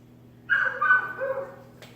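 A dog gives a short bark followed by a drawn-out whine, fairly faint against a quiet background hum.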